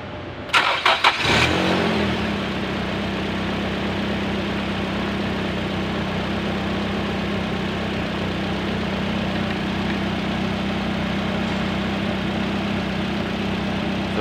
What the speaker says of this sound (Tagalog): Pa-startin na lang po yan upang mapakinggan natin kung smooth ba talaga ang kanyang andar